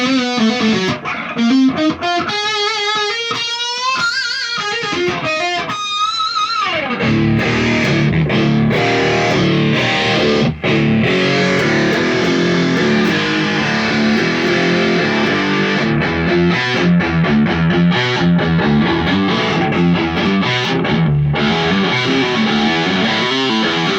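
Distorted electric guitar with weak pickups plays a fast jam, opening with bending sustained notes before settling into a dense, loud, continuous crunchy riff.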